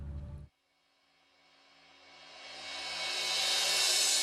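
A Dassault Mirage 2000 jet on a solo flying display approaches after a short burst of noise and a near-silent gap, its engine roar swelling steadily from faint to loud and bright as it nears.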